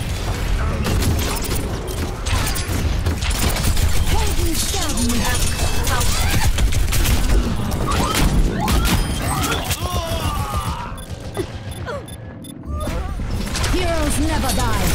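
Rapid gunfire from the Overwatch video game on the Volskaya Industries assault map, dense bursts and impacts layered over game voices and effects without a break.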